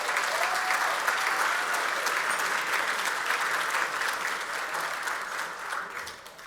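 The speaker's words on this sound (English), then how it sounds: "I love all the clapping" Sustained audience applause fills a room at an evening arts benefit for FTD, dense and steady clapping that slowly thins toward the end.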